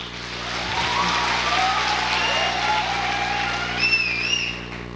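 An audience at a motivational business meeting breaks into loud, sustained applause, a continuous crackling wash of clapping with high whistle-like tones drifting over it.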